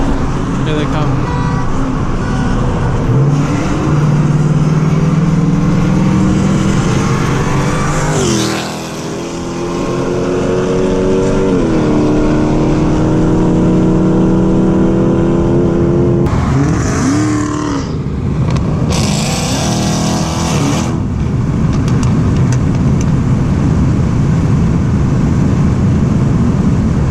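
Dodge Hellcat with its catalytic converter deleted, its exhaust revving loud and close in rising and falling pulls, with crowd talk over it.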